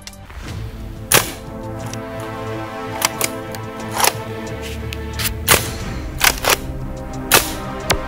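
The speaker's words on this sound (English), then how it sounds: "and let's try shooting Jackson" A CO2-powered Nerf dart blaster fires a series of about nine sharp, snappy pops at irregular intervals, shooting at a target about 60 feet away over a faint steady background hum.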